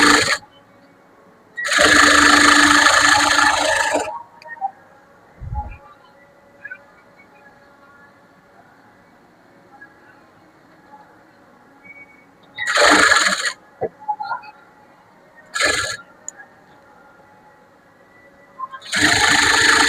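Sewing machine stitching a blouse, running in short bursts of a second or two separated by quiet pauses, with a few softer clicks between runs.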